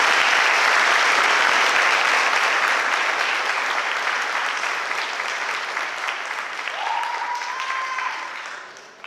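An audience claps steadily at a high school senior awards ceremony, a sustained round of applause that fades gradually toward the end, with a short tonal sound partway through.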